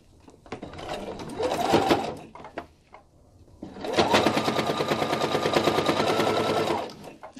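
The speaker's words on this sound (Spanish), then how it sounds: "Ahora simplemente nos colocamos e ingresamos cosiendo." A sewing machine runs in two fast, steady stitching bursts while sewing bias tape onto a nine-patch pot holder, loud and close, separated by a short pause with small handling clicks.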